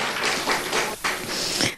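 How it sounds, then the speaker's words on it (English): Audience clapping at a panel discussion of an academic conference, a short burst of dense applause that swells and fades over under two seconds. "can you clap?"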